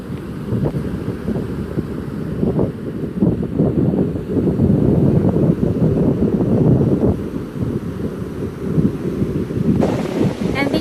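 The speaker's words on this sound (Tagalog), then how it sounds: "Enjoy the relaxing sounds from the ocean, from the waves" Ocean waves wash onto a reef shore at Laomei Green Reef, a continuous loud low rumble of surf with rolling swells, heavily buffeted by wind noise on the microphone.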